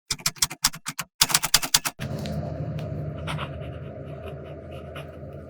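A fountain pen writing on Clairefontaine paper, with a fine nib and Sailor Shikiori Yonaga ink: a burst of close, crisp scratchy strokes in quick rhythm, a brief pause, more strokes, then a steadier, softer scraping texture.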